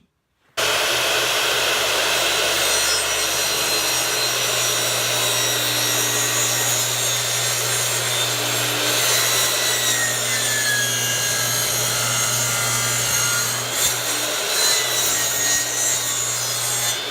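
A saw cuts through wood for a homemade mallet, its blade grinding steadily and loudly from start to finish in one unbroken stretch, close by and with no voices.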